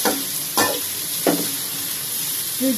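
A large batch of onions frying in a pan for a Qurbani beef curry, giving a steady hiss with a few sharp clanks of a utensil stirring against the pan.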